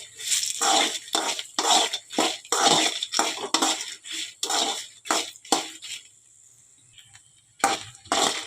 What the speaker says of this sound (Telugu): అవి త్వరగానే ఫ్రై అయిపోతాయి ఫ్రెండ్స్.